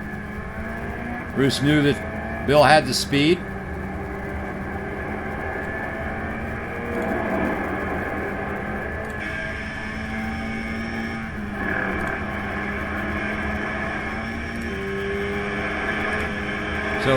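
Race cars at Mid-Ohio in an F4 senior event pass one another on track, a steady engine drone with brief louder bursts early on, heard beneath ongoing commentary.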